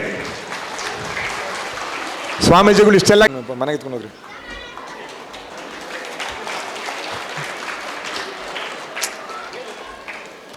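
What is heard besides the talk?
applause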